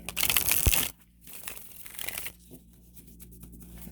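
A burst of papery tarot card shuffling up close for about a second, followed by quieter rustling and handling of the cards.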